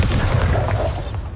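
A Bombarda spell explosion in Hogwarts Legacy, a dense, loud low boom that rumbles steadily through the whole brief moment and eases slightly at the end, with no talk over it.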